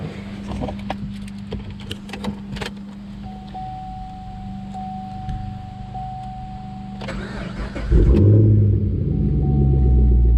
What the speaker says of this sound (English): Let's go ahead and get in this thing and start it up.